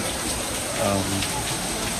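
Steady, heavy rain pours down in a dense continuous hiss, loud and close, with no break throughout, on Boracay.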